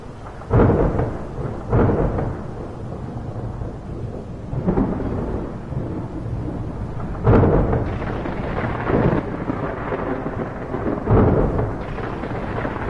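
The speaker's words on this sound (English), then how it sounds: "Get out from under this stupid storm, man." Steady heavy rain pours through a video game thunderstorm while loud thunderclaps crack and rumble at irregular intervals, several strong booms rising over the constant downpour.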